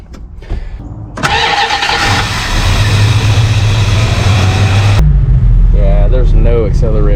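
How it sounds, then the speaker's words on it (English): A rare 1974 Plymouth engine, revived after sitting twenty years, cranks and catches, then runs loud and rough with a sustained rev at close range before dropping to a lower, uneven idle as a voice speaks over it. "It needs to warm up. I'm gonna run it through the gears."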